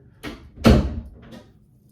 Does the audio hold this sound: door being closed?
yes